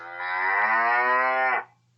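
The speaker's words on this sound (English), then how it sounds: "No, silly, cows go moo." A single cow moos once, a clear, loud, drawn-out bellow lasting about a second and a half before cutting off, heard alone against a quiet low hum.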